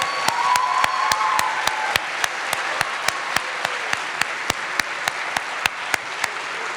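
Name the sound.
audience applauding storytellers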